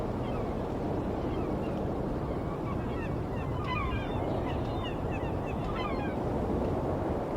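Seagulls calling in the distance over a constant wash of sea and surf in the VR game Brink Traveler, the cries scattered and faint above the steady rumble of the water.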